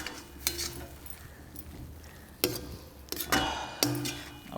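Chilli and coriander powder masala being stirred in a pan for Madurai-style paneer thokku, with quiet scraping and a few sharp clinks of a metal spoon against the pan over a low background.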